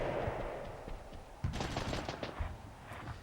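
Gunfire from the PlayStation game Army Men: Land, Sea, Air, with rapid machine-gun bursts and sharp shots crackling over a steady background of game noise, fairly close and loud.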